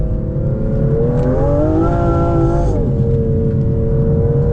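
A 2025 Aston Martin Vanquish engine revs up loudly, its pitch climbing steadily and then dropping back, a continuous close roar with no talking.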